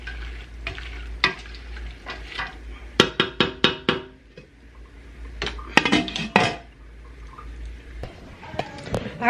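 Glass canning jars set out on a kitchen counter, a run of close clinks and knocks in quick clusters while cowboy candy cooks nearby, with a voice talking at times.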